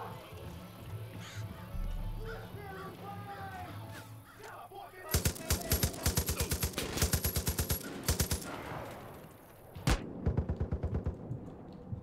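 Rapid bursts of automatic gunfire ring out in the Far Cry 5 video game, loud and sharp, in several rattling volleys after a quieter stretch of ambient sound.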